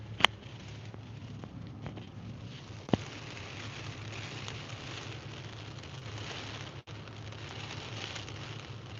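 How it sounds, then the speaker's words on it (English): Heavy rain falls at a railway setting as a constant dense patter on surfaces, steady and close, with a couple of sharp clicks near the start and a low hum underneath. "As you can hear, the rain is very, very heavy."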